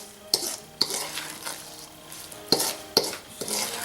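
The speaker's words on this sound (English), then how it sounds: "just slowly mix this all together" Batter being stirred into melted butter in a hot pan for a blackberry cobbler made with powdered milk: close scraping and sloshing of a utensil, with a few sharp knocks against the pan, no voices.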